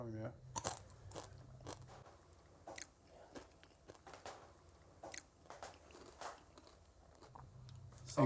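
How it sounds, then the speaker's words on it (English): Close, crisp crunching and chewing of crispy freeze-dried scrambled eggs, irregular bites in a quiet room, with brief bits of talk at the edges. "And here are crispy scrambled eggs. Try them. Now they're crunchy."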